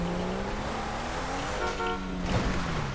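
A car horn honks briefly in GTA 5 over continuous engine and road noise. Two short toots are heard, the second blending into the ongoing vehicle rumble.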